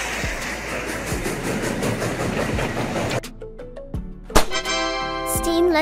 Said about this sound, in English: Steam locomotive train.